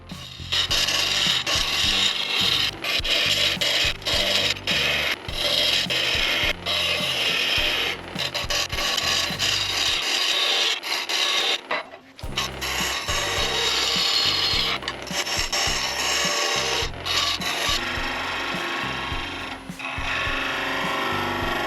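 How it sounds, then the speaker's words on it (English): Continuous scraping and rasping of a parting tool cutting into spinning wood on a lathe while turning a vase, with a brief pause midway before the cutting resumes. "cut using a parting tool, and then you just cut in the coves."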